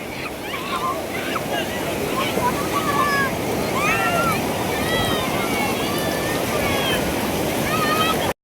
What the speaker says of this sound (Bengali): এই দেখো ঢেউ, দুই দিকের ঢেউ একসাথে হচ্ছে